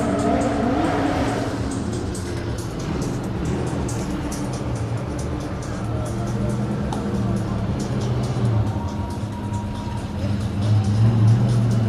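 Drift cars run a night practice session at a Drift Masters event in Germany, their engines droning and tyres hissing steadily at a distance beneath continuous commentary.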